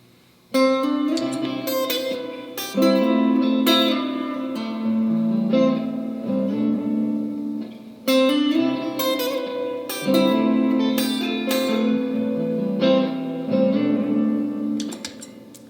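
An electric guitar plays a bright intro melody at full speed over a repeating backing loop, notes ringing in short bursts with brief gaps, loud and close.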